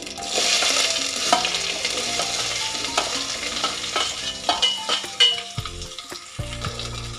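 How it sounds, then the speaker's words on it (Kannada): Onion and garlic fry in a hot oil tempering with mustard seeds for kadlekalu huli sambar, a loud, steady close sizzle broken by scraping stirring strokes near the end, with faint music behind and no speech. "ಸ್ವಲ್ಪ ಇದು ಈರುಳ್ಳಿ ಫ್ರೈ ಆಗಲಿ."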